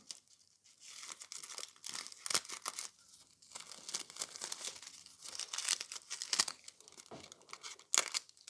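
Close crinkling snips and rustles as scissors cut small red and pink pieces from thin nail art transfer foil, irregular bursts of crackly tearing-like texture with short pauses, no talking.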